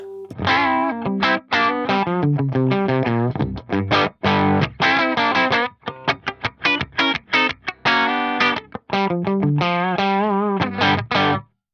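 An electric guitar plays a busy run of notes through a Fractal AX8 modelling a Carol Ann Tucana amp, with a bright, clean tone, continuous and fairly loud with short gaps.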